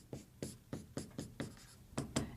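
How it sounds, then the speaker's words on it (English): Pen strokes scratch on paper while working a math problem, a quick run of about ten short, evenly spaced marks, close and faint, with no voice. "So I'll go ahead and write it that way."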